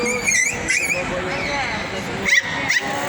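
Dogs yip and whimper at a dog festival held in a shopping mall, a few short high cries rising over steady crowd chatter and nearby talking.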